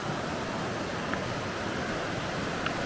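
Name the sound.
creek flowing water outdoors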